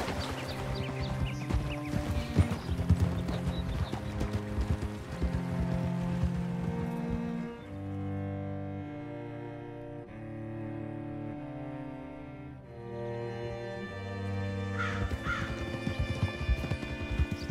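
Horse hooves clip-clop in Red Dead Redemption 2 over a steady bed of game music, with a brief whinny-like call near the end.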